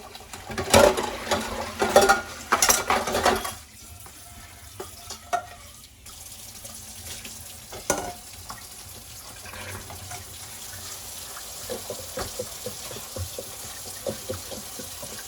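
A pot is washed under a running tap with silicone scrubbing gloves: water splashes loudly at first, then steadier flow sounds with light scrubbing and clinks close by.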